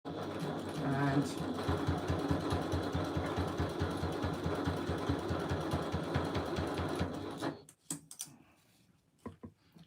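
A sewing machine top-stitches a strap, running in a fast, steady mechanical whir for about seven seconds before stopping, with a voice talking over it.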